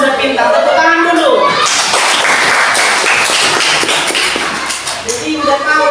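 Children in a classroom clap their hands together in a dense, fast patter lasting about four seconds, with some young voices chattering around it.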